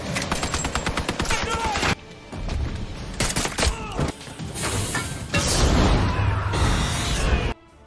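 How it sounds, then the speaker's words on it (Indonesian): Rapid bursts of gunfire in the film Sniper, loud and rattling, broken by crashes and booms with dramatic music and voices mixed in. "aksi tembak-tembakan kembali terjadi"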